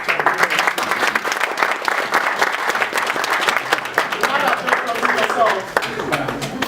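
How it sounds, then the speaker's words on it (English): A small audience claps in a brisk burst of applause, dense and close, lasting several seconds with a few voices mixed in. "A round of applause for her."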